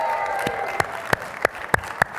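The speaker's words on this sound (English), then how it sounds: "There's a lot of clapping ahead of us, so pace yourself." Audience applause and cheering in a conference hall at SXSW EDU 2025, a dense wash of clapping with a few sharp louder claps standing out, fairly close and steady for a couple of seconds.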